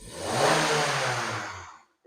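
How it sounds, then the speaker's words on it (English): A car engine is revved up, a single loud, close, smooth rise and hold of engine roar that runs without hesitation or spluttering, then cuts off sharply. "if I rev the vehicle up now,"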